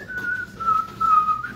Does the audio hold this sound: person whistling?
yes